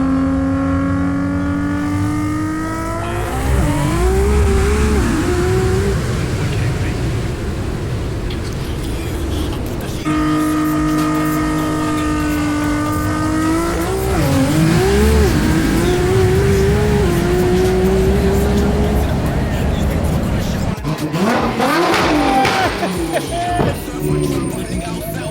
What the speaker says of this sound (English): Very, very quick Lamborghini.